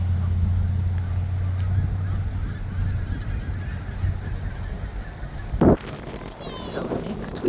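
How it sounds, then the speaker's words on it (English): Geese honk during spring migration in Fairbanks, Alaska, over wind and low rumbling background noise, with a louder burst of calls near the end. "We got a lot more geese now."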